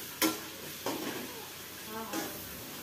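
Pasta is stirred in a sizzling pan, with a few distinct scraping strokes about a second apart over a soft background frying hiss, close but fairly quiet, with no clear voices.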